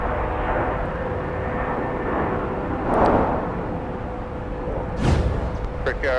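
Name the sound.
Delta airliner taxiing at MSP airport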